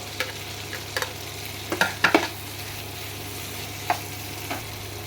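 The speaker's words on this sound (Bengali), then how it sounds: "এবার আমি চিংড়ি মাছগুলো দিয়ে কষবো।" Prawns are being stir-fried with potatoes in hot oil in a pan, with a soft steady sizzle under scattered sharp scraping and stirring knocks of the spatula, fairly close and fairly quiet.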